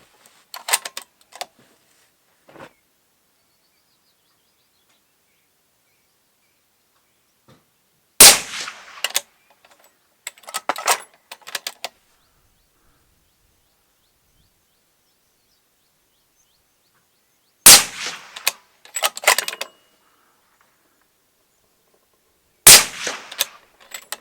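A Bergara B14 HMR Wilderness rifle chambered in 300 PRC fires three loud, sharp shots spaced several seconds apart outdoors, each followed by a rolling echo, with faint clicks earlier and near silence between.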